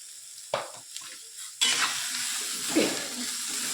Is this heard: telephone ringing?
no